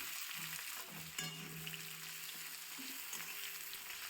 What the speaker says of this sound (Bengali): পেঁয়াজটা ভালো করে লাল করে ভেজে নিতে হবে একটু।